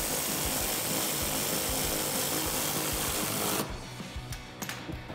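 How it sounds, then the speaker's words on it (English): A 10 millimeter socket on a power tool tightens a bolt that joins a Tacoma front bumper to the quarter panel. A dense, steady close mechanical whir runs for about three and a half seconds, then stops, followed by a few faint clicks. "We can thread that in and tighten that up with a 10 millimeter socket."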